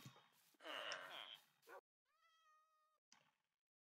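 A Minecraft cat meows in the video game: a long, breathy, scratchy cry, then a clear, drawn-out plaintive meow, and a short final mew, heard close and alone.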